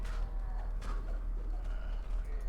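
A pigeon-like bird coos in a video game, a soft low cooing that continues steadily under a constant background hum.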